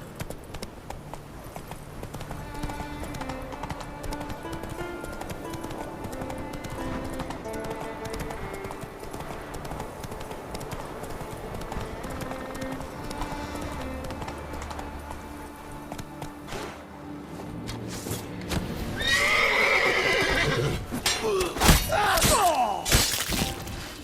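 Rhythmic hoofbeats of a galloping horse in The Witcher 3 video game, with a neigh and heavy thuds and crashes toward the end, all over background game music.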